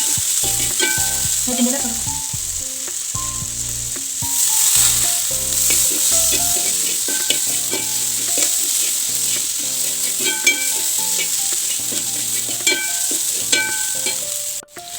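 Sliced onions and tomatoes fry in a pan over a home stove, a steady close sizzle and crackle running throughout, with scraping stirs and music playing underneath.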